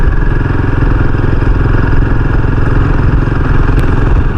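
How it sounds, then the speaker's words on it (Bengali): A motorcycle climbs a hill road in Purulia with a loud, close, steady engine drone and a rapid throbbing pulse that continues throughout, and no voices. "আমি বাইক নিয়ে প্রথমবার পাহাড়ে উঠছি"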